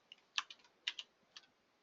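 A computer keyboard is typed on in a quiet room during a middle school programming lesson, a few sparse, soft clicks spaced irregularly and heard alone.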